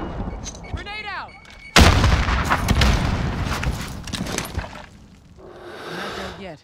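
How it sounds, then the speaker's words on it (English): Grenade blast and gunfire in Call of Duty Warzone, a sudden loud booming explosion followed by sustained rumbling and crackling shots, then a fainter burst near the end, with players talking around it. "Grenade out!"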